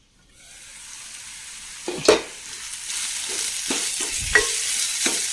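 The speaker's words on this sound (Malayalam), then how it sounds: "മൂടി വെച്ച് കൊടുക്കാം മാങ്ങ ഒന്ന് വെന്ത് വരട്ടെ" Mango curry simmering in a covered pan, a soft steady sizzle with a few scraping clinks of a lid or spoon, fairly quiet and close, no talking.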